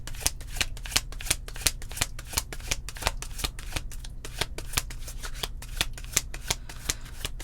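Tarot cards are shuffled in a quick, steady run of crisp riffling flicks, close and moderately loud, continuing evenly with no voice.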